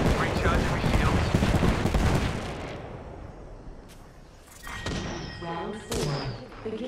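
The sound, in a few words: gunfire in video game Apex Legends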